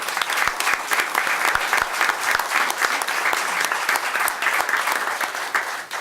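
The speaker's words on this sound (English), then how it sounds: "How about a round of applause?" Applause at a city council meeting, with steady, energetic clapping from a room full of people and sharp individual claps standing out. It stays loud throughout and tapers slightly at the very end.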